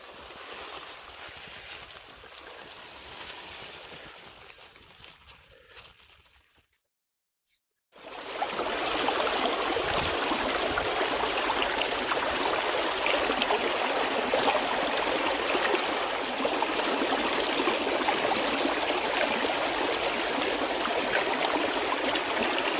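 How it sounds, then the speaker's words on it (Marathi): Water running steadily beside a well on a farm, a quiet hiss for the first seconds, then after a brief silence a louder, constant rushing flow that continues to the end. "मस्त इथं पाणी चालू आहे बघा"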